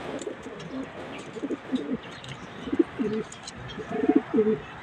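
Pigeons coo in a small loft, several soft, rolling calls repeating at close range over a steady background hiss, with no one talking.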